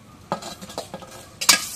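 An egg drops into hot oil in a wok, giving a short, close crackle and spatter that flares twice in under two seconds, with a brief clink of utensils between.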